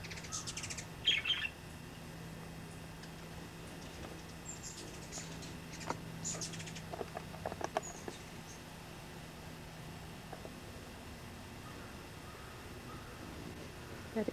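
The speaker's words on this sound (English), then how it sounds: "This is my hummingbirds." Hummingbirds chirp in short, high, faint twitters around a tree holding nests with several babies, scattered irregularly over a steady low background hum, with no voices.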